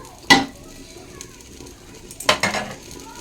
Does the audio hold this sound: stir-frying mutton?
yes